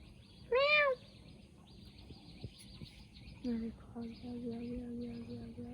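A single clear meow rings out near the start, followed by quieter shuffling and a faint, steady tone in a calm room.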